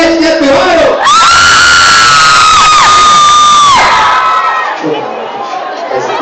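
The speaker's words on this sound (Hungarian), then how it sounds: "most megkérjük az összes jelenlévő hölgyet, az összes vércsét, hogy háromra sikítson majd egy olyan nagyot" Concert crowd of women at a show in Siófok letting out a sustained, loud collective scream on a count of three, rising sharply then fading after a few seconds into general crowd noise.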